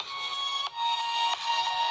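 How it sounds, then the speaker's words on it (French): A HOMTOM S9 Plus smartphone plays sound through its own built-in speaker, a thin, tinny tone with brief clicks and dips, fairly quiet and heard alone. "je vais vous faire écouter le son"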